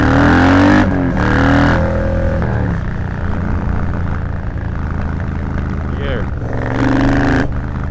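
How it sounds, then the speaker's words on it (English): A Triumph Bobber motorcycle fitted with pod filters revs up close, its engine note swelling and falling in strong bursts at the start and near the end, with a steadier throbbing idle in between. "another thing I noticed is the sound of the pod filters"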